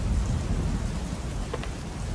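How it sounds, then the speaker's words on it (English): Thunderstorm ambience in the indie horror game Baal: dense, steady rainfall with a deep rolling thunder rumble filling the low end, loud and continuous with no talk. "I like the thunderstorm."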